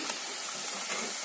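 Sabudana vada, crispy tapioca-pearl fritters, deep-frying in hot oil, giving a steady close bubbling sizzle with no pauses throughout.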